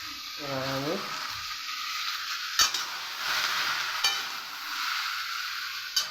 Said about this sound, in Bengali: এবার আমি লৌকিটা ঢেলে দিলাম।